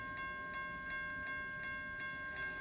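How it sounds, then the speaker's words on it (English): A train passes a Roblox railroad crossing fitted with electronic bells, which ding in a steady, quick, even rhythm over a constant rumbling background, with no voices. "I miss the sound of the e-bells at this crossing."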